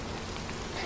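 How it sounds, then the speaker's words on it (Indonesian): Steady rain falls outdoors in a dense, even hiss of drops on surfaces, constant and fairly loud throughout without pauses or voices. "Gue pikir lo bakal nembus hujan."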